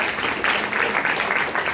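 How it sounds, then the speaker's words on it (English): A short burst of audience applause at an inspirational talk, dense and steady from start to finish with no gaps. "Give yourself a round of applause if you believe anything."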